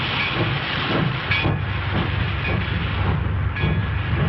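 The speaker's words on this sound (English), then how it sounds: "See that train down there?" A train sits in a railroad yard, giving off a steady low rumble with faint hissing steam and soft, regular clanks, heard at moderate volume.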